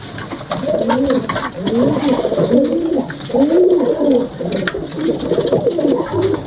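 Pet pigeons coo close by in a steady series of soft, rolling, throaty calls, one phrase after another across the whole stretch, loud and clear with faint background noise.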